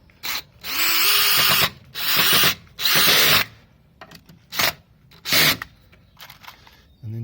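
A power drill drives screws into the corner of a shed frame in a series of loud, close bursts of whirring, separated by short pauses.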